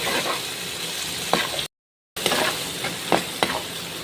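Shrimp sautéing with onion and garlic in a pan, a steady bright sizzle broken by a few scraping stirs and one short silent gap, close and with no talk.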